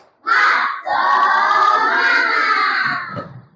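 A classroom of children chants a spirited clap-along together, loud and close, their voices rising as one in a sustained shout with a brief break near the start.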